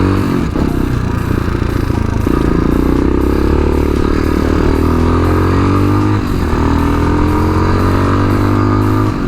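A Tao Tao TBR7 motorcycle rides along the road, its engine droning steadily and close with audible gear shifts and rising revs, plus some wind and mechanical clatter throughout.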